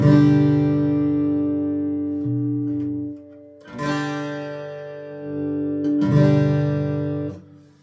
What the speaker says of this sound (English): And what you're hearing is basically just the guitar itself.